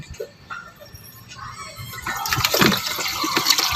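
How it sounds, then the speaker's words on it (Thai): Water is turned back on and runs through a two-tube household filter with carbon and resin cartridges, starting quiet and then swelling into a loud, close rush and splash over the last couple of seconds. "เปิดน้ำอีกที"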